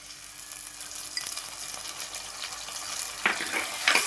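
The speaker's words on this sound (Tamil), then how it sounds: "இப்போ குழம்புக்காக தான் நம்ம வெங்காயம் போட்டு தாளிக்கிறோம்" Steady crackling sizzle of onions frying in hot oil for a lamb leg curry, with a few louder spits and pops near the end; no voices.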